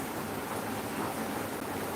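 Rain falls on a rainy day as a soft, even hiss, faint and unbroken, with no voices over it.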